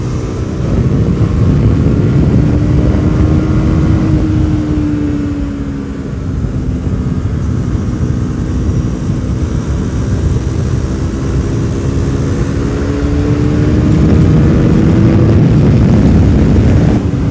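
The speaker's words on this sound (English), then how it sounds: "This is what a small displacement sport bike should be like" KTM RC 390 sport motorcycle with a small-displacement engine, heard while riding as a loud continuous drone whose pitch rises and falls gently, with wind rush.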